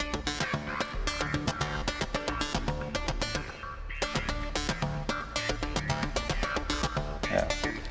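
Sequenced electronic beat layered with a pulsing synth rhythm, steady and loud throughout with repeated percussive hits and sustained tones, no voices.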